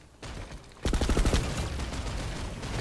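A turret in a video game opens fire after a brief quiet moment, a loud rapid burst of repeated shots that settles into continuing gunfire noise.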